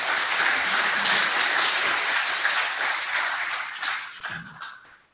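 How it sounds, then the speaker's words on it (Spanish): Steady applause from a conference audience, dense and loud at first, then thinning out and fading to a few scattered claps at the end. "Recibamos con un caluroso aplauso"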